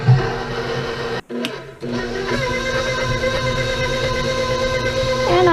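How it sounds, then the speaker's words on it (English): A stand mixer runs steadily while beating a Hungarian Zserbó slice dough, giving a loud continuous whirring hum with a brief dip near the start, then resuming evenly, with no talking. "let the stand mixer do its job"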